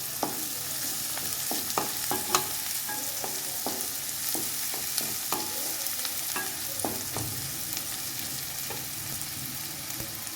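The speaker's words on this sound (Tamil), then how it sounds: "வெங்காயம் நல்லா கோல்டன் ப்ரௌன் ஆகிற வரைக்கும் நல்லா வதக்கி எடுத்துக்கணுங்க" Onions sautéed in a pan until golden brown give a steady frying sizzle, broken by repeated sharp spatula scrapes and taps as they are stirred, with no voices.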